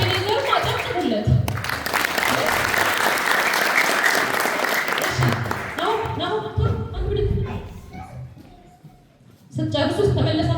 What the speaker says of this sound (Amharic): ለአቤኔዘር አጨብጭቡለት።